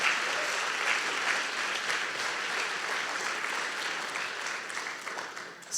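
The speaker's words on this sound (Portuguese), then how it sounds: "Você pode aplaudir o Senhor Jesus?" A church congregation bursts into sustained applause, a dense wash of many hands clapping steadily and loudly for several seconds before cutting off.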